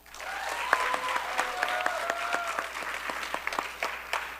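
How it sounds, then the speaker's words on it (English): An audience claps steadily at a university coronation ceremony for Mister and Miss Coppin State, a sustained round of applause with scattered cheers and indistinct voices over it. "Another round of applause."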